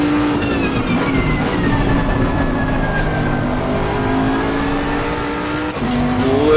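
Race car engine in Assetto Corsa Competizione on a qualifying flying lap at Zolder, loud and close, with a sustained high whine rising and falling through gear changes and throttle, alone without talk.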